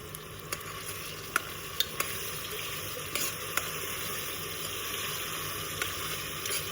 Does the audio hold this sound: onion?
yes